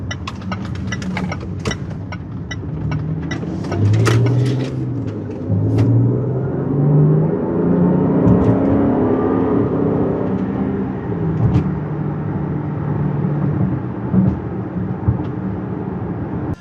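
A 2020 Land Rover Range Rover HSE being driven, heard from inside the cabin as a steady low rumble of engine and road noise that stays constant throughout, with a few faint clicks scattered early on.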